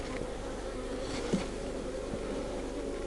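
Honeybees buzz in a steady, close drone from an open top bar hive, a continuous hum with no talk over it.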